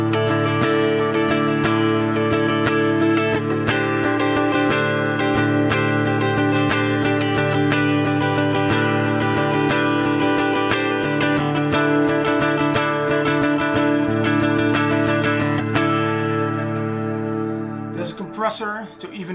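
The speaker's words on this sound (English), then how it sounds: "the cabinet is the impulse response of a little acoustic simulation of a chord guitar, and it sounds pretty cool" Electric guitar run through a Fractal FM9 with an acoustic guitar cabinet impulse response, giving sustained, ringing chords that play loud and steady before changing texture near the end.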